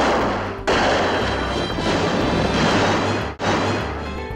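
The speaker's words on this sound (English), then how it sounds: "they charge each other and all the shooting starts" Gunfire from the western film True Grit comes as loud, sustained shooting and booming blasts that run almost continuously. The barrage breaks off briefly twice, and no one talks over it.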